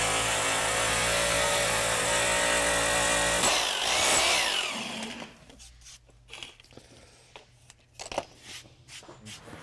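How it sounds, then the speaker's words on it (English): A power drill bores into concrete with a loud, steady grinding whine for several seconds, then stops, followed by quieter scattered handling clicks and knocks. "stop the drill from continuing to drill it through the concrete"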